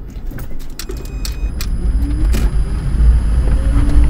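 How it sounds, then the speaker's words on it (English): A second-generation Toyota Prius pulls away under battery power in EV mode, a steady low motor and road rumble that gradually swells in loudness, with a faint high whine and a few brief clicks, no voices. "we're accelerating out of here"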